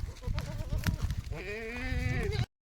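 Goats herded in a line along a pond embankment let out a loud, drawn-out bleat close by, following a stretch of rustling and shuffling movement.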